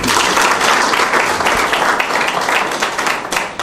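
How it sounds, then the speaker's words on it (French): Loud, dense audience applause at a gathering honoring a benefactor who funds tutoring for students, continuous clapping close by that tapers slightly at the end. "Applaudissez-le."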